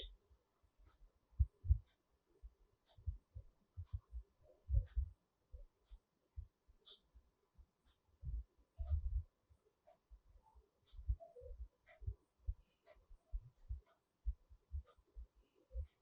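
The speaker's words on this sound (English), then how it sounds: "along with your heartbeat." A heartbeat during a guided Shiva meditation comes as soft, low thumps in irregular clusters of double beats, spaced across a quiet background with no voices.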